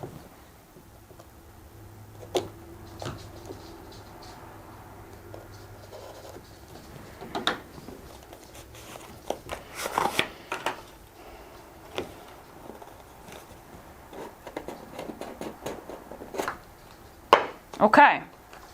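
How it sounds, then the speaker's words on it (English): Ecomi crypto wallet card being lifted out of its box, with scattered scratching, rustling and tapping of the packaging, getting louder and busier toward the end. "Let's get this thing out of the box here,"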